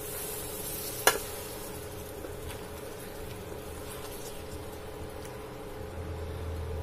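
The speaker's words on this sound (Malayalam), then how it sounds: "ഇനി ഇതിലേക്ക് നമ്മൾ കട്ട് ചെയ്ത് മാറ്റി വെച്ചിരിക്കുന്ന ചെറുനാരങ്ങ ചേർക്കാം. നന്നായി ഒന്ന് ഇളക്കി കൊടുക്കാം." Cut lemons being stirred into a pickle mix in a pan, a low continuous sizzle with soft scraping and one sharp clink early on, close and without voices.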